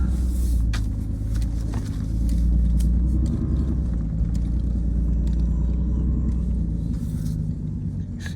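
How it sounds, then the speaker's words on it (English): A car rolls ahead at low speed with a heavy, steady engine rumble heard from inside, plus occasional light knocks and rattles over the continuous drone. "I'll just drive ahead a little bit here."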